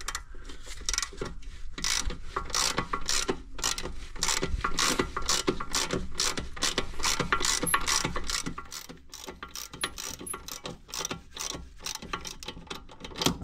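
A filter being unscrewed by hand on a Volkswagen Passat, heard as close, continuous rapid clicking and ratcheting mechanical rattles with rubbing scrapes, steady throughout.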